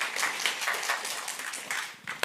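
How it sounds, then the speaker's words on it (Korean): A church congregation applauds during a sermon, a brief burst of scattered clapping that is fairly soft and fades within a couple of seconds. "우리 박수로 수고하셨으니까."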